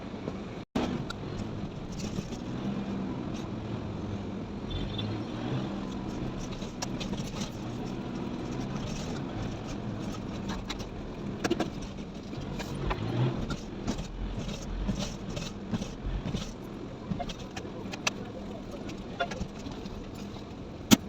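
Heavy road traffic heard from inside a car: a low steady engine hum and rumble with occasional clicks and knocks in the cabin, moderately quiet throughout; no talking.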